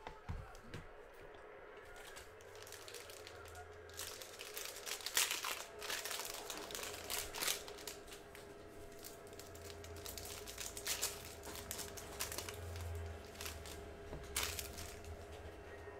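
Basketball trading card packs from 19-20 Hoops Premium Stock torn open, with crinkling cellophane wrapping and crisp tearing foil running continuously at close range, no talking.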